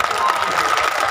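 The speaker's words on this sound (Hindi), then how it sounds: "जोरदार ताली हो जाए।" A packed crowd at a political rally in Rajganj, Jharkhand, claps loudly and steadily, a dense wash of applause with no pauses, heard up close for about a second.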